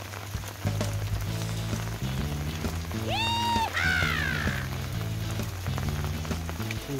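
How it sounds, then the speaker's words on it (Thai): Steady rain falls in a garden as a storm passes, a dense continuous patter close by, with music playing over it throughout. "นี่ฝนตกบรรยากาศฝนตก"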